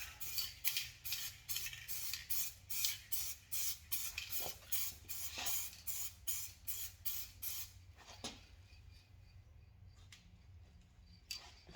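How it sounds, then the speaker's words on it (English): Short rhythmic hisses of hydrodipping activator from a spray can, about a dozen quick bursts in steady succession, then a pause and a couple of isolated sprays, close and fairly quiet. "I'm going to spray the activator"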